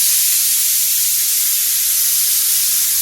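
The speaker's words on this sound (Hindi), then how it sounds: "और कुकर में आ रही है सीटी" A loud, steady high-pitched hiss of steam venting continuously from a pressure cooker whistle, close by and unbroken from start to finish.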